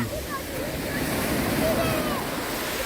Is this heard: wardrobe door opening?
no